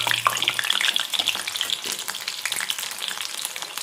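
Eggplant pieces shallow-frying in oil for dahi baigan: a continuous close sizzle with fine crackles and occasional louder spits, fairly even in level throughout.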